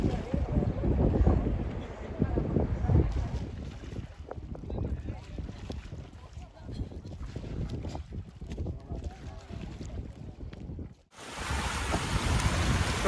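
A boat crosses floodwater over a washed-out village road, giving a continuous rumbling wash of water and motion with gusting wind buffeting the microphone, heard loud and close and then briefly cut off before resuming.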